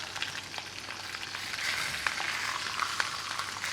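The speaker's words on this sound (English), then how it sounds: "So you want to sear the pork for about 3 to 5 minutes." Pork sears in a hot pan with a bright, steady sizzle and crisp spitting pops, growing slightly louder partway through, close and alone without speech.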